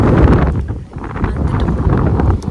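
Strong wind buffets the microphone on a boat near the Gateway of India in Mumbai, a loud continuous roar with gusting swells and no voices.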